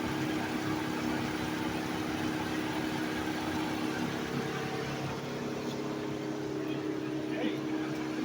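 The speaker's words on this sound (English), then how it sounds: "That's both of his fans running, ain't it?" A car idles with both radiator cooling fans running, giving a steady loud whirring drone with a low engine hum that never lets up, and someone talks over it.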